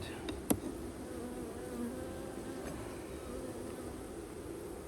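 Honeybees fill an open hive with a steady, dense buzzing drone, close and continuous throughout, with a faint click near the start and no talking.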